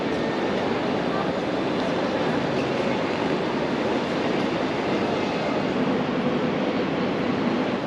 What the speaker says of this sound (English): These double-decker trains are so beautiful